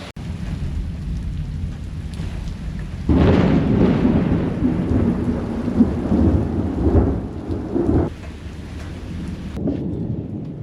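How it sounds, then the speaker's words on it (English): Deep rumbling thunder rolls in around the third second and swells loudly for several seconds, then fades back to steady rain hiss. "Dang thunder, man"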